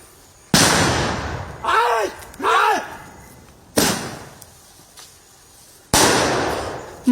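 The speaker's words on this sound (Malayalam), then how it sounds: "പടക്കം പൊട്ടിച്ച് ആനകളെ വനം വകുപ്പ് കാട്ടിലേക്ക് തുരത്തുന്നതിനിടെ" Firecrackers set off by forest staff to chase wild elephants back into the forest in a village area of Panamaram, Wayanad: three loud, sharp blasts spaced apart, with voices shouting between them.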